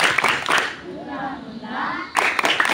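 An audience at a community waste-sorting outreach session claps a short rhythmic chant pattern in bursts, with group voices chanting between and under the claps.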